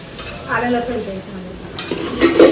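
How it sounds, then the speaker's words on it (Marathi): Finely chopped onion being stirred in a hot pan for tempering, a soft sizzle with a couple of scraping spoon strokes, close and fairly loud. "फोडणीसाठी बारीक शिजलेला कांदा तो कांदा ढवळून घ्यायचो"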